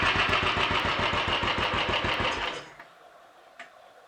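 A Royal Enfield 500 motorcycle single-cylinder engine running with a steady, loud rapid thumping beat close by, then cutting off abruptly after about two and a half seconds, leaving quiet with a faint click.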